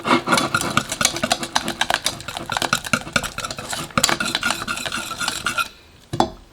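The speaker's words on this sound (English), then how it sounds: "Looks like I'm going to need a whisk to do this." Whisking a paper mache clay mixture made with DAP joint compound: steady, rapid scraping and clinking of a whisk against the bowl, close and loud for about six seconds, then a pause and a final knock.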